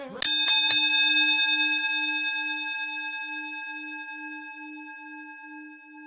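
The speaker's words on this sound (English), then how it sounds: "That bell was way too goddamn long." A boxing bell struck three times in quick succession, bright metallic clangs followed by a long ringing tone that slowly fades over several seconds.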